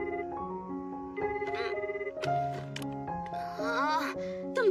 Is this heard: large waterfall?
no